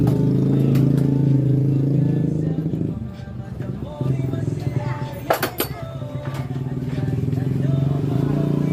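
A Yamaha Aerox 155 scooter engine runs close by with a steady low idle hum. The engine dips briefly midway, and light metallic clinks sound over it.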